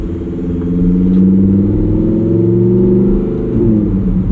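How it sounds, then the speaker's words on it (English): The V10 engine of a 2021 Lamborghini Huracán EVO Spyder drones steadily from inside the car, its pitch climbing and falling as it accelerates, loud and continuous with a deep rumble. "I'm going to try not to talk too much during this video just because I want to hear this V10"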